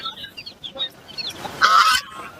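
Loud honking from large ducks, a harsh burst of calls near the end over background noise at the Kunnathur livestock market in Tiruppur.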